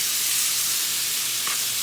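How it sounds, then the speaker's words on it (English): Shrimp hitting a hot pan, giving a steady, bright sizzling hiss that fills the moment, close and fairly loud with no talking. "I'm gonna add my shrimp."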